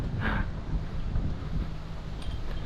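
Wind blows steadily through a park with a soft, low rumble and faint rustling, fairly quiet and without any voices.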